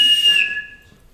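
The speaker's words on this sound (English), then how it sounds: "and whistle assembly call." A man whistles an assembly call in a living room, a bright, loud tone with a quick rising flourish that settles into a steady held note, then fades out alone.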